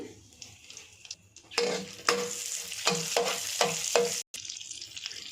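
Star anise, cardamom, cloves and bay leaves tossed into hot oil in a pan, crackling in loud bursts as a spoon scrapes and stirs them at a steady rhythm, close up, before a sudden brief cutoff.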